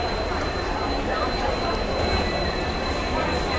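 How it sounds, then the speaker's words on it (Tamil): Rail noise of a local train arriving at a platform at Arakkonam station, a steady loud rumble with a faint high whine, continuous throughout with no clear talk. "ஏதோ ஒரு லோக்கல் ட்ரெயின் எல்லா பிளாட்ஃபார்ம்ல அரைவா இருக்கு."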